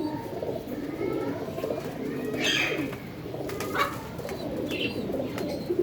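Soft pigeon cooing mixed with other bird calls and chirps over a steady outdoor murmur, fairly continuous throughout.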